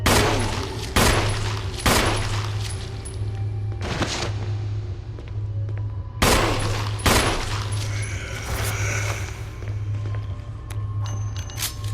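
Gunshots in the Resident Evil Remaster survival horror game, several sharp loud reports spaced a second or more apart, echoing over a low steady hum, with quieter footsteps and clinks between.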